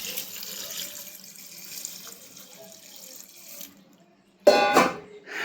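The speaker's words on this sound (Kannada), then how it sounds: "ಈಗ ಇದಕ್ಕೆ ನೀರು ಹಾಕ್ತೀನಿ." Water pours steadily into a cooking pot of cumin while a North Karnataka puṇḍe palya is made. The pour runs for a few seconds, stops briefly, then returns as a louder, splashier burst.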